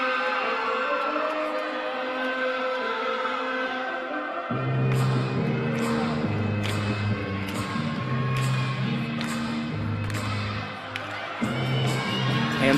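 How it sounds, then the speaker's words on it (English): A crowd at a college gymnastics meet cheers and shouts over loud rhythmic music with a steady beat, its noise swelling and staying busy throughout. "The crowd is getting into it."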